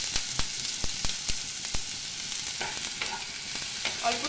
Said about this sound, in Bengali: পেঁয়াজ কুচি করে নিলে তাড়াতাড়ি ভাজা হয়ে যায়